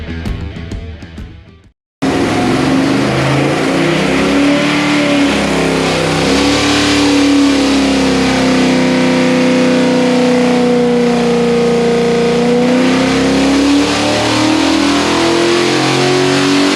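A V8 car engine with an Edelbrock 750 cfm VRS-4150 carburetor roars on a dyno through a sustained loud pull, the pitch climbing steadily after a brief quieter moment at the start.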